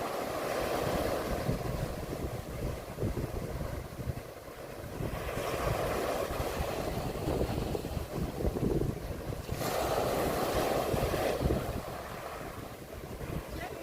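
Waves break along the shore at Lowestoft, UK, a constant rushing roar with a couple of louder surges, heavily mixed with wind noise on the microphone.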